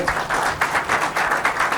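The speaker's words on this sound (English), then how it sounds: "can we have a big round of applause for Riva here?" A crowd at a tech-day gathering in a hotel claps hands in quick, pulsing bursts, close and fairly loud, without any talk over it.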